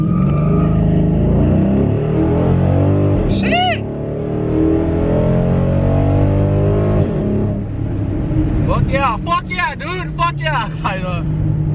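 A tuned Dodge SRT8 Super Bee Charger accelerates from inside the cabin, its engine note rising and dropping as gears change, loud and continuous beneath people talking excitedly.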